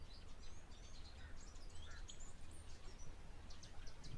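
A spur-winged goose calls at an African waterhole: a scatter of high, thin chirping calls repeated through the clip, fairly faint over a steady low rumble of background noise.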